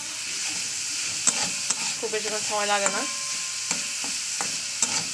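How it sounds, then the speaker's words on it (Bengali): Flattened rice pulao with peas frying in a pan, stirred with repeated scraping strokes and clacks of the spoon against the metal over a steady sizzle, close up, while someone talks briefly. "এটাকে আবার দু তিন মিনিট ভাজা ভাজা করে দেবো"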